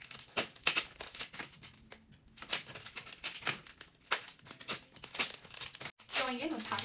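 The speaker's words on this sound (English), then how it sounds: "today we're opening 6 packets of Journey Together. Let's see what we pull. Time to rip into them." Pokémon TCG Journey Together booster packs torn open, with crisp ripping and crinkling foil wrapper sounds in irregular bursts, close and fairly quiet.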